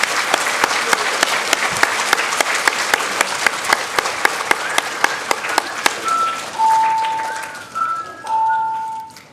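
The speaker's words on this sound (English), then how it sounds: "Let's give a round of applause to our sixth graders." Loud, steady applause from a crowd at a school awards assembly fills most of the clip, fading near the end as a few sharp whistles ring out.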